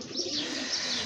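Black lakka (fantail) pigeon cooing close by in a steady, continuous low call, with soft chirpy overtones and no talking; the pigeon is wet from rain.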